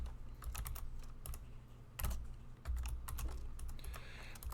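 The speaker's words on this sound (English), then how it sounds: "Type this up real quick." Quick bursts of keystrokes on a computer keyboard while writing JavaScript code, clustered clicks with short pauses between runs, close and clear over a low room hum, with no voice.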